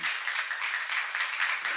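Church seminar audience clapping together at a quick, steady rhythm, a brief burst of rhythmic applause heard at moderate distance.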